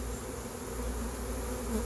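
A steady, dense buzzing of many swarming honeybees fills the air, a continuous droning hum close by with no pauses, as the swarm enters a hive.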